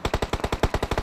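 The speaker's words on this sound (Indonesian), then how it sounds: "Suara tembakan." Rapid automatic gunfire from PUBG Mobile, about ten evenly spaced, punchy shots in quick succession, loud and close with no voices over it.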